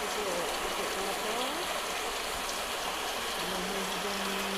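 Heavy daytime rain driven by strong wind near coconut palms, a dense, loud, unbroken roar of falling water and gusting air with no pauses and no voices.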